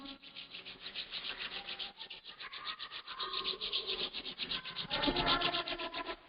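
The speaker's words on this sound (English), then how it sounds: "Rub your hand, everyone." A group of people rub their hands together in a rapid rhythm, making a dry, rasping swish that repeats again and again at moderate loudness.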